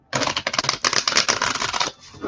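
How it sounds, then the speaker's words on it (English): Deck of brand-new playing cards being riffle shuffled, a rapid fluttering burst of crisp card snaps lasting about two seconds, close and loud. "these cards are new, so they're a little harder to shuffle right now"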